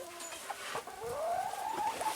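Chickens cluck and murmur softly in a coop with freshly delivered bedding, a few sharper calls and one rising squawk standing out over a steady low flock chatter.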